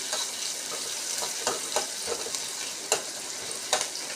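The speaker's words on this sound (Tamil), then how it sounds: "வெங்காயத்தை நீல வாக்கில் நறுக்கி போட்டுக்கோங்க. இது நல்லா வதங்கட்டும்." Long-sliced large onions sautéing in a pan while cooking kola urundai kuzhambu, a steady close sizzle with several sharp scraping stirs of a spatula.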